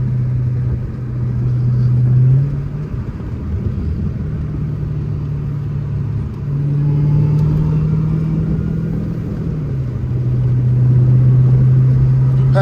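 A Dodge Hellcat Redeye driving fast near a car meet, its engine a loud, steady low drone that swells and eases several times as the revs rise and fall.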